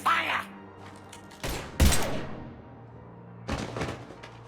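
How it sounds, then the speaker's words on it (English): Gunfire erupts in bursts during a firefight in the video game Mass Effect 3 on the Citadel, with sharp volleys separated by brief lulls and a voice speaking amid the shots. "Now open fire!"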